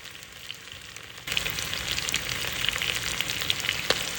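Potatoes frying in a pan give a steady, close sizzle that jumps louder partway through and keeps crackling with small pops, with no talking.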